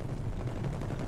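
Turret gunfire in Battlefield 2042, a dense continuous burst of rapid shots with a heavy low boom, loud and unbroken for about a second.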